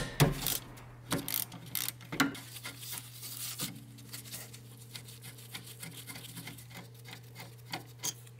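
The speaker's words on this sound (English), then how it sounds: "So we're gonna undo these two bolts over here, so we can remove the caliper." Brake caliper bolts of 14mm being undone on a Hyundai Sonata, with scattered metallic clicks, rasps and tool clatter coming close and at an uneven rhythm over several seconds.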